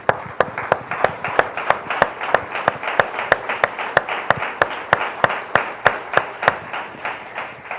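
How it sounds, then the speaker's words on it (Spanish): A church congregation claps hands together in a steady, even rhythm, each sharp clap evenly spaced and fairly loud, with no talking over it. "Démosle palmas al Señor, hermano."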